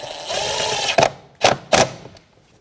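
A ratchet tightening a 10 mm bolt while a brake master cylinder is replaced on a 2007-2017 Jeep Patriot: three short, sharp bursts of clicking close by, separated by brief pauses, after a low background hum.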